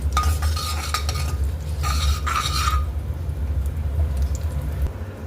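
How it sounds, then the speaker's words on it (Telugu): Curry leaves, red chillies and garlic fry in a pan, a soft crackling sizzle with a few quick bursts of metal spoon scraping and clinking against the pan, no talking. "అలాగే కరివేపాకు, రెడ్ చిల్లీస్ వేసాను, అలాగే గార్లిక్ కూడా వేసాను అనమాట. దీన్ని ఫ్రై చేసేస్తున్నాను."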